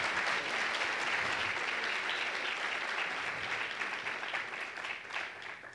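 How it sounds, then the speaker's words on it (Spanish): Sustained audience applause at a film-writing event, a dense wash of clapping that stays strong for several seconds before thinning slightly near the end, with no one speaking over it. "les queremos ofrecer un gran aplauso, un gran reconocimiento de entrada, Vicente Leñero y Guillermo Arriaga."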